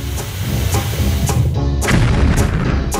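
A cartoon explosion sound effect from a food-challenge animation lands as a series of loud, booming bursts. Sharp cracks repeat every half second or so over a thick, rumbling low end.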